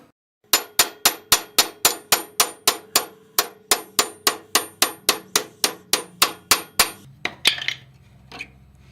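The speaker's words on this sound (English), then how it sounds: "Glad I ain't using anything bigger than a ball peen." A ball peen hammer hammers metal parts on a Cub Cadet 124 garden tractor with about twenty-five sharp, close ringing strikes in a fast, even rhythm, then a couple of scattered clanks and a brief rustle at the end.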